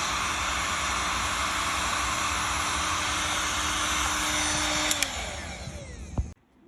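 A Seekone 1800W heat gun blows with a loud, steady rushing hiss and a faint tonal hum, then clicks off near the end as the airflow dies away.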